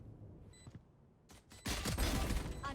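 Gunfire in a Valorant esports match, a few sparse shots and then a loud burst of rapid close fire with ringing ricochets.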